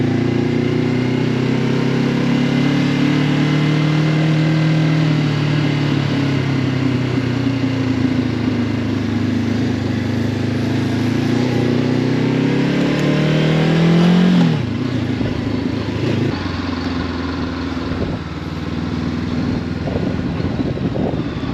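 A motorcycle engine holds first gear on a steep climb, a close continuous drone that rises slowly in pitch, dips sharply near the middle and then carries on with rougher wind-buffeted noise.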